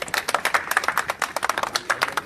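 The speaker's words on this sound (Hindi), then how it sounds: "और लोग भी बजाओ यार तालियां" A crowd claps in quick, uneven bursts, a steady patter of many hands close by with no voices over it.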